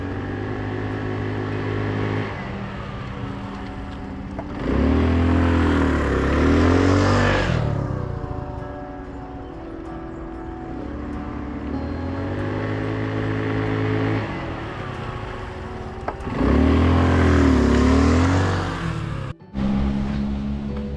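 A motorcycle engine rises and falls as the rider practices swerving left and then right around an obstacle during riding drills, with repeated revving surges between steadier running, moderately close.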